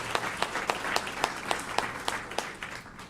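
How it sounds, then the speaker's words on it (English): Applause from an audience at a cancer research center event, a full crowd clapping with several distinct sharp claps standing out regularly, gradually thinning toward the end, with no talking. "It is wonderful that she just asked you to applaud"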